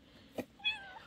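A cat meows once, close and clear, with a short rising-falling cry after a brief soft thump, in a quiet indoor room.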